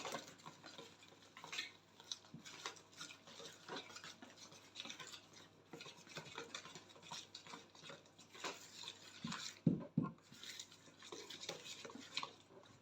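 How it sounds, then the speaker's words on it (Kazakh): A spoon stirs hot water quickly into a gluten-free pancake mix of rice flour, corn flour and soda in a bowl, giving close, rapid, rhythmic scraping and clinking against the bowl with no talking. "Осы дайын болған смеске ыстық суды құйып отырып, тез-тез араластырасыздар."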